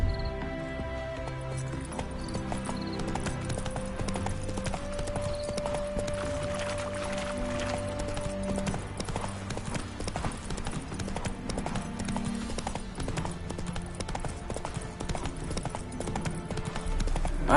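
Horse hooves clip-clopping steadily at a fast gallop in The Witcher 3: Wild Hunt, close and continuous, with a long faint tone sustained partway through.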